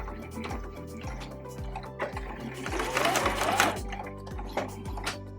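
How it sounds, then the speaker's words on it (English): A sewing machine runs a steady rhythmic stitch along the seam of a fabric pencil pouch, with a few louder clacks and handling noises midway, no talking. "of the bag so that we can stitch smoothly along this last stretch."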